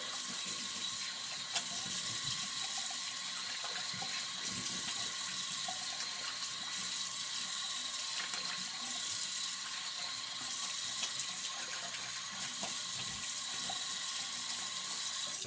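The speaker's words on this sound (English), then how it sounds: "Cold water rinse." Steady stream of cold tap water running into a sink for a rinse after shaving, a continuous broadband hiss with no talking.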